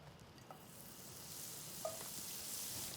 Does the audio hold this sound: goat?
no